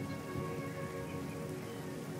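Steady rain patters on surfaces in a dense, even hiss of countless drops, continuous and close, with no voices.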